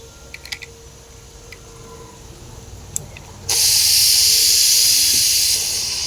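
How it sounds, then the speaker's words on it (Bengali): A pressure cooker cooking meat releases its steam with a sudden loud, steady hiss that starts midway and holds to the end, after faint clicks and taps. "দমটা বের করে দিলাম।"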